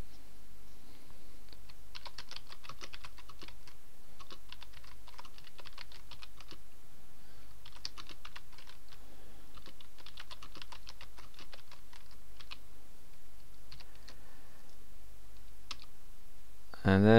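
Text entered on a computer keyboard into a WordPress blog post, heard as steady bursts of rapid key clicks with short pauses between runs, moderately close over a low background hum, with a brief voice at the end.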